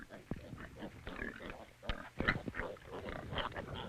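Pigs on a Chinese farm grunt and oink in short, irregular bursts at close range, with other animal and background noises mixed in and no clear talk.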